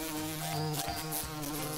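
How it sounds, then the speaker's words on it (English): A steady insect buzz hums close by, a continuous droning whir with slight wavering pitch and no voices. "Have you heard the buzzing of the bees?"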